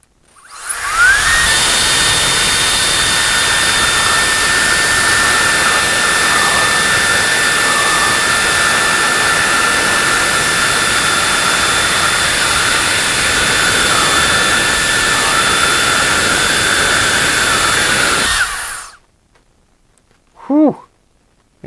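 An LK08 compressed air duster blows at full power with a loud, steady high-pitched whine and rushing air for about eighteen seconds. It then cuts off, followed by a brief quiet sound.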